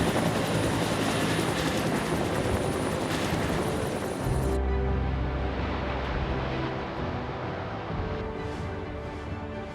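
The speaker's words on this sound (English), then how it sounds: "These helicopters are loaded with thousands of liters of specialized flame-suppressing foam." Firefighting helicopters carrying flame-suppressing foam fly overhead with a continuous loud rotor roar and engine whine that shifts partway through, heard alone without talk.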